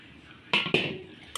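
A lid lifted off a container of spices and salted lemons for pickle, heard as two close clattering knocks followed by a brief third clink, with no talking.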